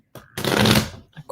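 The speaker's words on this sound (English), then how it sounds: "the cards are not wanting to shuffle" A deck of tarot cards is shuffled by hand, giving one dense riffling burst of papery flutter that lasts about half a second, with small taps before and after it.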